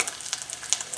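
Food frying in a non-stick pan, simmering in its own liquid: a quick burst of crackling, popping sizzle with irregular bright spits over a soft continuous hiss.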